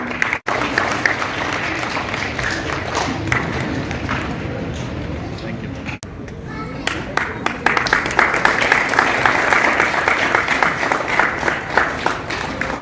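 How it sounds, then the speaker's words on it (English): An audience at a school felicitation and exhibition program applauds continuously, a dense patter of many hands clapping that swells louder in the second half. "Everyone, give them a big round of applause."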